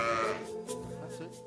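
A lamb bleats close by and loudly while being held and handled on a farm, its wavering cry opening the clip and fading, with faint talk in the background.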